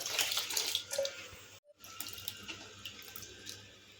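Plain water is poured over soaked meal maker soya chunks in a kitchen vessel, a close, steady rushing splash that cuts out for a moment, then resumes as a softer running trickle.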